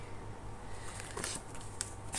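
Tarot cards being drawn and shuffled during a reading, a soft papery riffling with a few brief crisp flicks and slides over a low steady hum, no talking.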